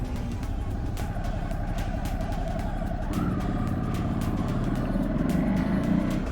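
A 2021 Ducati Hypermotard 950 motorcycle being ridden, its steady engine drone and wind rush sustained throughout, growing somewhat louder and rougher partway through as the revs rise.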